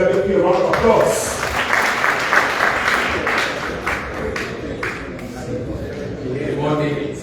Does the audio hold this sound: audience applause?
yes